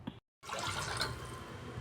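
Water pours into a cooking pot holding soaked rice and lentils for ven pongal. A steady, close splashing rush follows a brief moment of silence.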